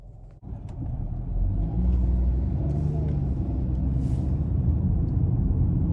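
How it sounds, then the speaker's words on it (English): A 2021 Ford Bronco Sport Big Bend pulls away from a stop under light throttle, its engine rising into a steady, close, continuous rumble with no voices over it. "really good low end power, just giving it a little bit of throttle from a stop"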